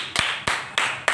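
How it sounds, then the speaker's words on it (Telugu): Students in a classroom clap their hands: four sharp, loud claps in an even, quick rhythm, heard alone. "కొట్టండి. క్లాప్స్"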